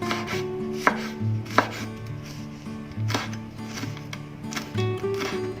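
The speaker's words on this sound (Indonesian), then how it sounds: "Cabenya saya iris serong." Knife slicing chili peppers diagonally on a cutting board while cooking, giving a few sharp chopping taps spaced irregularly over steady kitchen background tones.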